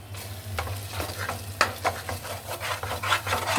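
Spices and chili powder being stirred in hot oil in a frying pot, rhythmic scraping strokes over a soft sizzle, close and moderately loud with no voices.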